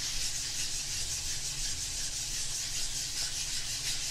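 A surface being worked steadily with a 150-grade sanding stick, a continuous close, even rubbing hiss with no pauses and no talk.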